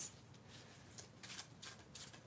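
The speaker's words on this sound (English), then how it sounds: "Give me one moment to shuffle, and we will answer this question." Tarot cards are shuffled quietly by hand in a series of soft, quick riffling bursts, close and faint with no talking.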